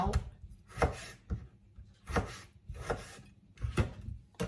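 Fresh tomatoes are chopped with a knife on a cutting board, giving about eight separate, close thuds at an uneven, unhurried pace with quiet pauses between.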